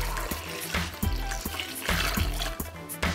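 Water pours and splashes into a cooking pot for brining a homemade Christmas ham, a continuous close liquid stream with gurgling and uneven sloshing.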